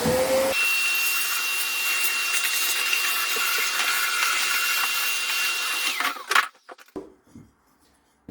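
Sandpaper rubs on scrap material with a steady, scratchy grind that sounds like a power sander for about six seconds. It then stops, and a few handling knocks follow.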